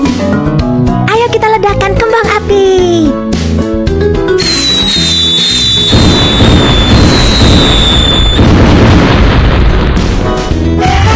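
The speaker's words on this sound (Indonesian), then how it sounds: "Ayo kita lihat jenis kembang api apa yang akan dihasilkan" Loud booms and crackling bursts follow each other, with whistling rising tones mixed in, dense and continuous like a fireworks display.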